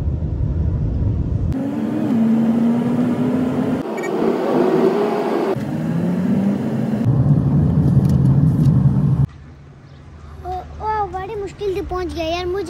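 A car driving, with steady engine and road rumble throughout, a drone shifting in pitch as it moves, then quieter cabin noise near the end as a voice speaks over it.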